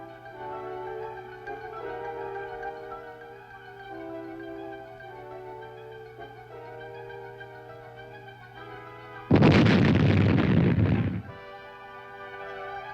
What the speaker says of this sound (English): Once uncovered, these mines were destroyed by demolition experts using charges of plastic